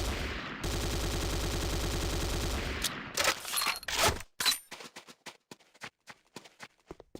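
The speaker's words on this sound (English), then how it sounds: "The next weapon is the Corbretti AR-70 Raptor automatic rifle." Automatic rifle fire from the Corbretti AR-70 Raptor in the Renegade video game: a loud sustained burst of rapid shots, then a scatter of separate sharp cracks and single rounds tapering off.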